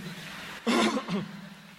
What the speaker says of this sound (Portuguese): eu tenho um pigarro desagradável, que é horrível para o professor